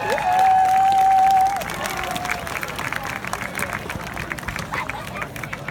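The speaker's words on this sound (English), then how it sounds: "Let's give our dance team a great big round of applause." A crowd at a high school football game's halftime show applauds the dance team, a sustained wash of clapping and cheering across the whole span after a brief sustained tone at the start.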